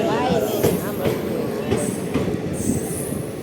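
A crowded passenger train at a station rumbles and clatters close by, with wheels squealing and metallic screeches over the steady roll, while people talk excitedly.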